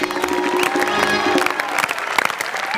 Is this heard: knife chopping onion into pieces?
no